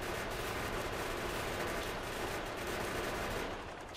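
Sustained, dense automatic gunfire in the Factorio game, a continuous rattling barrage from a player shooting through big worms, loud and steady for several seconds before easing slightly at the end.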